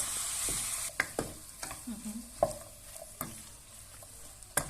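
Zucchini sautéing in a pot for vegetable soup, stirred with a utensil: a soft sizzle beneath repeated sharp scraping knocks of a spoon against the pot, close and moderately loud, with no talking.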